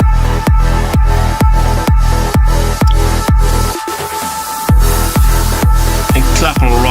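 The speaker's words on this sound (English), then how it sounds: "the main kick playing right here." A punchy main kick drum in an uplifting trance track thumps in a steady four-on-the-floor pulse beneath sustained synth pads, briefly dropping out for a short filtered break before returning, loud and continuous.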